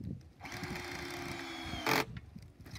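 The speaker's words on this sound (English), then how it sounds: "pop it on the edge of the drill" A drill drives a screw fixing into a roof rafter during thatching work, giving a quiet, steady motor whine for over a second that ends in a short, sharper burst, heard close up with no talk.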